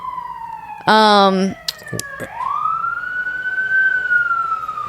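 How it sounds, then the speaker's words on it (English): Emergency vehicle sirens wail outside, a rising and falling tone that swells and sustains loudly after a brief burst of speech-like noise, with a voice talking briefly near the start. "Sorry about the sirens."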